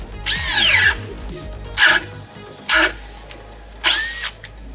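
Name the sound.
competitor 18-volt drill with 7/8 ship auger into SPF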